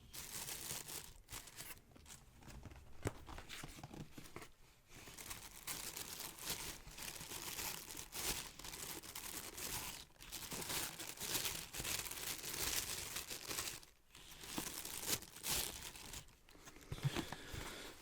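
Thin, light wrapping paper around a pair of shoes is crinkled and rustled close up, a steady soft crackle throughout with brief pauses, and no voice.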